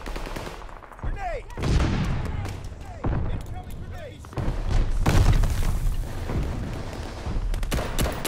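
Grenade blast amid heavy gunfire in the Call of Duty Vanguard multiplayer beta, with loud bursts and booms on a Red Star map, dense and continuous, with game voice callouts over it.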